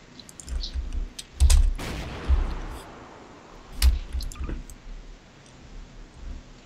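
Sniper rifle shots in Garry's Mod ring out as a few sharp, loud cracks with decaying tails, separated by stretches of quieter clicking and faint background talk.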